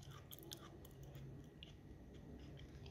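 Someone chews crunchy cooked spaghetti squash close to the mouth, giving quiet, irregular crisp crunches and small bites over a soft background hush.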